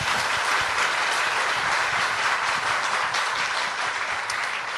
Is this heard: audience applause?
yes